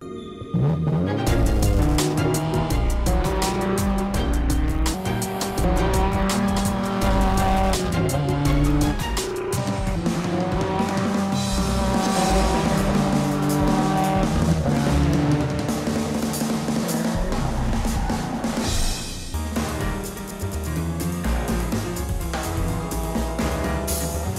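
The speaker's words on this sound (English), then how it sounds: "the Subaru did not sound like a Subaru at all" Subaru WRX concept car driving hard, with engine revs and tire squeal set against loud music, a dense continuous roar with sharp skids cutting in throughout.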